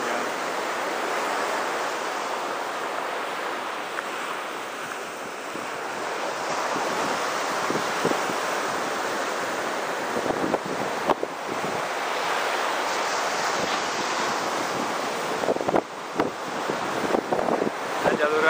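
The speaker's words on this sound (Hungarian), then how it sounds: "Tenger, pálmafák, homokos partok." Sea waves wash onto a sandy beach at Kenting in Taiwan, a continuous roaring surf with gusty wind buffeting the microphone and occasional louder surges of breaking water.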